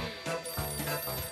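A cartoon telephone rings with a bright, repeated bell trill, several quick bursts close and clear with no talking over them.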